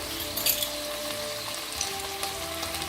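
Oil sizzles steadily in a pan as chili oil goes into a prawn stir-fry, a close, even hiss with faint clinks.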